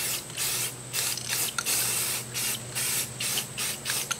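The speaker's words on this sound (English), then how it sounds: "This is my main coat that I'm putting on." An aerosol can sprays a main coat of paint onto a treestand in rapid short hissing bursts, close and fairly loud, with no talking.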